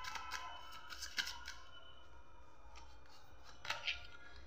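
Tarot cards being shuffled and drawn, soft quiet riffling and snapping of card stock with a few sharper flicks near the end, over a low room hum.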